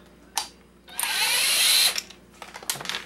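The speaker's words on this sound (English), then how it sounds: "And there's two security screws here. Let's see if we can unscrew them easily enough." A power driver whirs on a security screw in a hair dryer casing: a short blip, then a sustained high whine for about a second, followed by scattered clicks and handling noise, with no talking.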